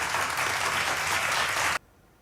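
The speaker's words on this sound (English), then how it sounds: "With a huge round of applause, ladies and gentlemen." Audience applause at an inauguration ceremony for a free plastic surgery program, a dense, loud burst of clapping that fills the room and then cuts off abruptly near the end.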